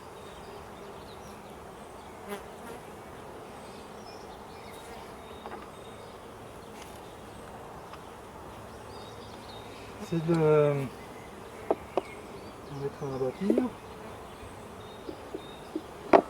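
A soft, continuous hum of honeybees around a small nucleus hive fills the background, with a few quiet spoken words and occasional handling knocks near the end.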